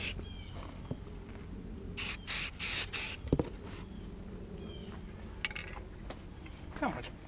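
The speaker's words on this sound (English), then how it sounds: "I can spray on here too." Several short hissing bursts of an aerosol spray can, close by, during a 350 engine rebuild, come in quick succession, with quiet handling noises between them.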